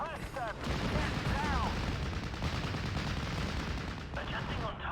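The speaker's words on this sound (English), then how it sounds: "I want to try and hit these Fallschirmjägers with my machine guns." Machine gun fire and explosions from the Normandy 1944 strategy game Steel Division, a dense, continuous roar of rapid gunfire with bursts near and far and brief whistling sounds.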